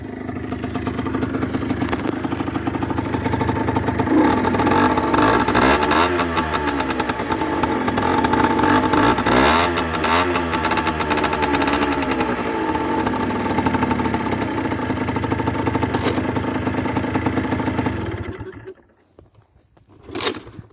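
A motorcycle engine idles with a rough, clattering rhythm, revving up and down a few times, then cuts off near the end.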